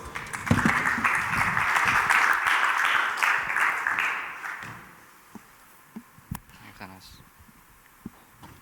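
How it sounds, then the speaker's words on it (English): An audience at an agriculture panel discussion on the circular economy applauds the panelists, a dense round of clapping for about four seconds that fades out, leaving scattered taps and thuds in a quiet room. "Please give them a huge round of applause."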